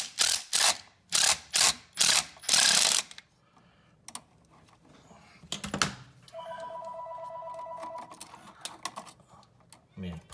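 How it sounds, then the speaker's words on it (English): Landline telephone ringing indoors in a room where a light switch is being replaced, a steady trilling ring running about two seconds, preceded by loud handling clatter and voices talking. "Let me pause this so the phone can ring."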